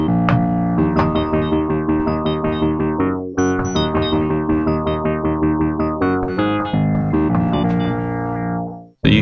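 An arpeggiated synthesizer from a Kontakt sample instrument runs rapid, evenly pulsed note patterns with rich harmonic tones, loud and close and shifting chords every few seconds, alone before cutting off abruptly.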